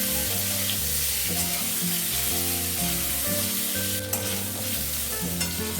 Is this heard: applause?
no